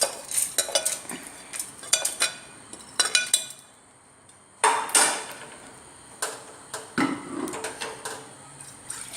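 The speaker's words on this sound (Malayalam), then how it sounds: "ഇത് നമുക്ക് ഇനി മിക്സിയിലേക്ക് ഇട്ട് കൊടുക്കാം." Roasted ingredients spooned into a mixer grinder jar, with repeated clinks and scrapes of a spoon against the jar in uneven bursts and short pauses between.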